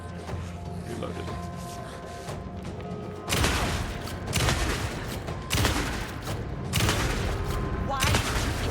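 Gunfire in the video game Alan Wake 2 comes as several loud, sharp bursts of shots spaced a second or two apart, following a quieter stretch of low ambient game sound, with no voices in the clip.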